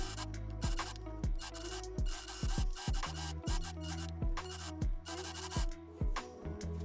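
An overlock machine runs a stitch along the top edge of joined pleated fabric panels, a close, steady mechanical hum with bursts of fast repeated needle strokes and brief pauses between runs.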